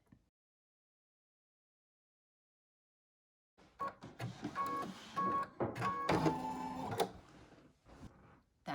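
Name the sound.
sewing machine sewing satin stitch around a mask panel edge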